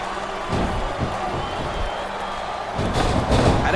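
Arena crowd noise roars throughout a WWE SmackDown vs. RAW 2007 wrestling match, a steady wash of shouting broken by heavy slams and thuds on the ring.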